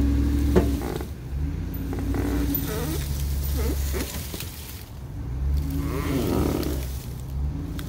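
A vehicle pulls a hooked-up boat trailer out, its engine a steady low rumble that swells and ebbs across the stretch, close by, with no talk over it.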